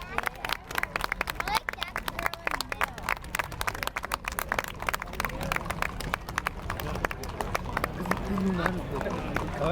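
Horse hooves clip-clop in a rapid, uneven patter of sharp knocks on pavement during a Fiesta de los Vaqueros parade, with crowd chatter and voices underneath.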